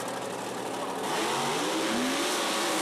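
Mud drag truck engine revving hard at the launch of a run on a mud track, a loud roaring rise that builds and holds steady, with crowd and track noise around it.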